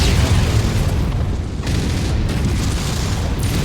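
Explosions rumble through a mech combat video game, with a dense, loud, continuous booming and roar from shells landing nearby, with no voices.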